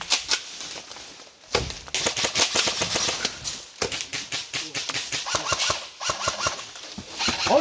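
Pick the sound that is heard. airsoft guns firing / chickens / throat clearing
airsoft guns firing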